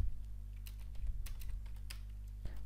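Rapid typing on a computer keyboard, a quick irregular run of light clicks and clacks close up over a low steady hum.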